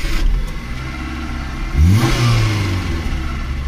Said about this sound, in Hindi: तो ये मैंने अभी गाड़ी स्टार्ट कर दी